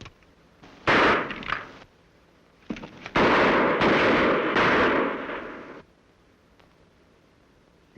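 Two loud close-range gunshots ring out in an old western TV show, each a sharp blast trailing into a long echoing decay with a quiet gap between them.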